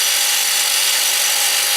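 A Bauer battery-powered right angle drill runs steadily with a high, even motor whine, close and continuous for a brief stretch.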